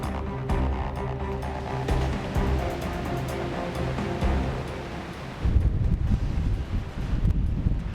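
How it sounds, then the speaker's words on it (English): Strong wind rips around a mountainside temple path, a loud continuous rushing roar with buffeting gusts striking the microphone, growing rougher toward the end. "you can just hear that wind ripping around this side"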